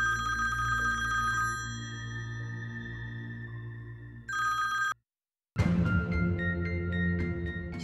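A telephone rings in repeated electronic trills, with a steady tonal chime between them, then a short silence and a louder, busier burst of ringing.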